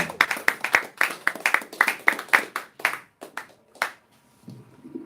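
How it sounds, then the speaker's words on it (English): An open mic audience in Watford claps in a brisk, close, uneven rhythm that thins out and stops near the end. "let's give Ellie and Leslie a great big round of applause to start with"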